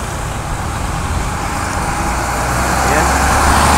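Steady, dense road traffic rumbles on a congested street narrowed by ongoing MAA flyover construction, engines of cars, trucks and buses blending into a continuous roar that grows slightly louder toward the end.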